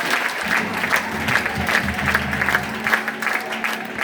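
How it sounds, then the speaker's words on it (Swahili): A church congregation claps steadily for a choir, sustained and fairly loud, with faint tonal sound underneath and no clear talk. "Tupigie Bwana Yesu makofi mazuri kwa ajili ya Yesu."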